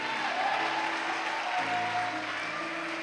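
A church congregation applauds Jesus during a worship service, dense sustained clapping with a held musical tone underneath, filling the room at a steady level.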